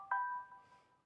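Samsung Galaxy J7 Neo phone plays its Charming Bell notification tone, a single clear bell strike with a pure ringing tone that decays over about a second, quiet and alone.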